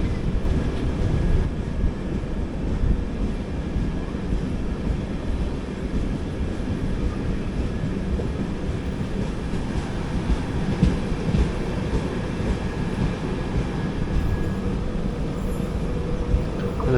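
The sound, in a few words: 16323 Coimbatore–Mangalore Express train approaching at speed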